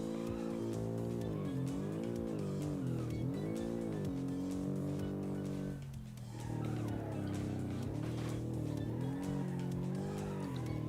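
A rear-engined, all-wheel-drive car with a 205-horsepower, 2.5-litre naturally aspirated boxer four and an automatic gearbox, racing in BeamNG. Its loud engine drone runs continuously, pitch rising and falling through shifts, with a brief dip midway.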